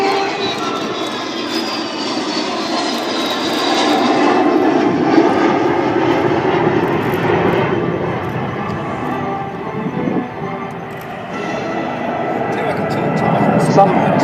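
Avro Vulcan XH558 jet bomber flying at the RAF Waddington international air show, a loud sustained engine roar that swells and fades slightly, heard with a commentator talking throughout.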